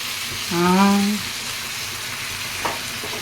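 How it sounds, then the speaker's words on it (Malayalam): Chicken pieces frying in a home kitchen pan, giving off a steady, close sizzle and faint stirring, with a short hummed voice tone partway through. "അപ്പോൾ ചിക്കൻ ഇടാൻ പോവുകയാണ്."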